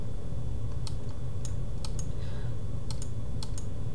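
Computer keyboard keys pressed in scattered single and double clicks against a steady low hum, fairly faint and close, with no talking.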